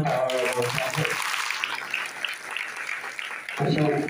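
Applause for donors at a school event with blind children breaks out after a voice, a broad crowd clapping that holds steady for several seconds before the voice returns.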